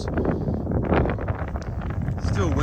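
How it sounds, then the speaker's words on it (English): Wind gusts buffet the microphone outdoors on cold, open farm ground used for growing giant pumpkins, a steady rough rumble throughout, with faint rustling mixed in. "Still windy and cold, that's for sure."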